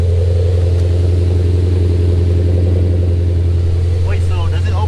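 A car engine revving through its exhaust, a loud, deep, throaty roar held steady close by, with voices speaking over it near the end.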